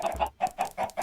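Farm chickens in the video game PixWorld cluck in quick, close, repeated bursts, loud and without talk.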